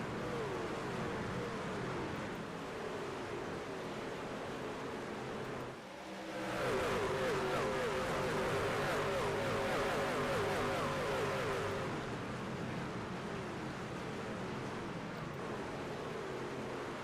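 Trucks racing at Iowa Speedway in a sim racing video game, a constant drone of engines with a louder truck passing through the middle and a whining engine note that rises and holds before the pack noise settles back.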